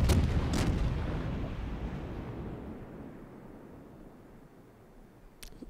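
Naval guns fire a heavy broadside in the World of Warships video game, a booming blast that rolls off into a long fading rumble, with a faint sharp crack near the end.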